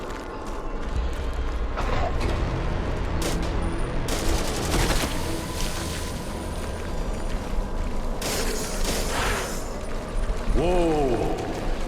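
A howitzer fires in a Korean survival-horror video game with fixed camera angles, sounding as a series of loud booms and crackling bursts over a constant noisy background, with a short whooshing sweep near the end.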